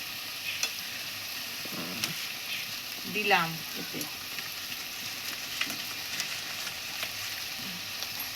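Spices such as coriander, fennel, cumin and mustard seeds dry-roast in a wooden pan with a faint, crackly sizzle and occasional stirring, while a voice speaks briefly.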